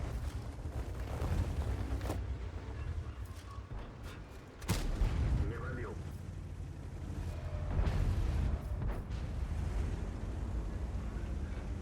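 Artillery fire in the tank game World of Tanks: a sharp, heavy boom strikes once midway and rings out over a constant rumbling, wind-like engine and battlefield background, with a few fainter thumps around it.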